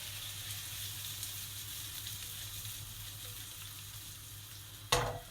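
Serbian cevapi sausages frying in a pan, a steady soft sizzle throughout, ended by a sudden brief louder clatter near the end.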